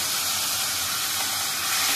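Tomato dropped into a hot pan of onion for an arbi (taro root) bhaji, giving a steady, loud hissing sizzle that holds evenly throughout with no talk.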